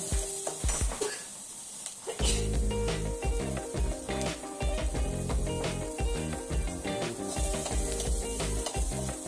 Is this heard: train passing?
no